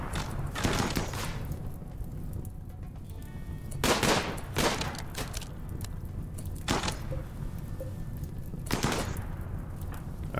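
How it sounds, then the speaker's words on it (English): Bursts of gunfire from the RimWorld video game, several loud broadband volleys spaced a few seconds apart over a steady background, with no talk. "We're starting to get shot here"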